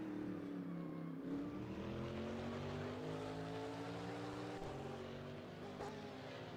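A Porsche race car engine howls during a GT3 race at Mid-Ohio, steady and moderately distant with rising and falling pitch as it runs through gears, droning without pause.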